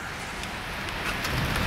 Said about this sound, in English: An extremely sudden torrential downpour, it would seem, coupled with thunder and lightning.